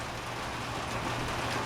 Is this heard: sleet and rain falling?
yes